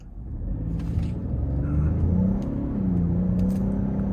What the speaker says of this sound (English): A quick little acceleration test I think we could do before a Ford Edge comes from behind us.